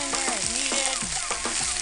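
Roma tomatoes sizzle in an oiled pan, a constant close frying hiss with intermittent scraping strokes as they are moved around, no voices.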